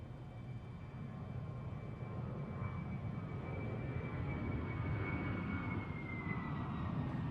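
An Embraer KC-390 military transport aircraft flies past at the Farnborough Airshow, a steady distant engine roar and drone with a faint whine that slowly shifts in pitch, with no talk.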